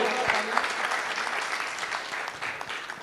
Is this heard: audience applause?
yes